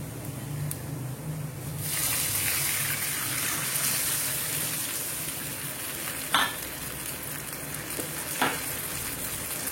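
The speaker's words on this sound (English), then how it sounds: "Let us put the tamarind juice." Tamarind juice poured into a hot frying pan hits with a sudden loud, bright sizzle that then settles into a steady frying hiss, with a couple of sharp clinks near the end.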